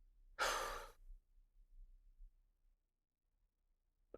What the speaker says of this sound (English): So that's a big breath in with a strong exhale.